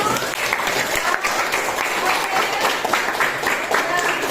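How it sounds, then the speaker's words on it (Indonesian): A classroom full of students breaks into sustained applause after their presentations, a dense, even wash of clapping that holds steady throughout with no talk over it. "Berikan aplaus dulu untuk kalian semua."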